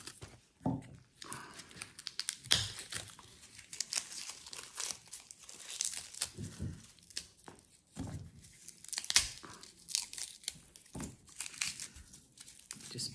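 Garlic cloves are snapped off the bulb and the papery skin is peeled, giving close, quiet crinkling and tearing rustles in irregular bursts.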